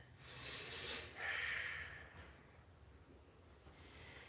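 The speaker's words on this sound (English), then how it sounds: "you should be listening to the sound of your breath" Steady, audible breathing during an energetic blindfolded yoga flow, with a strong inhale-exhale swell around the first two seconds that then settles into softer, continuous breaths, close and alone.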